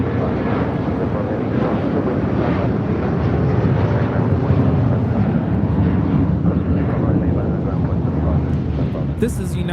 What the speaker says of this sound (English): 1069 taking off to Chicago O'Hare on a 757-300.